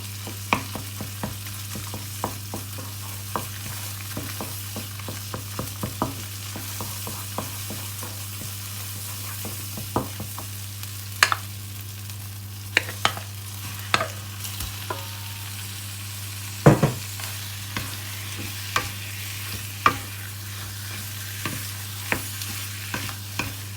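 Thai curry paste stir-fried in hot oil in a wok, a constant close sizzle with frequent sharp scrapes and taps of a spatula spread through the whole stretch, no voices.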